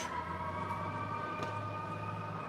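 An ambulance siren sounds on a Bronx street in New York, a steady multi-tone wail at moderate distance over a constant background of street noise, with no talk.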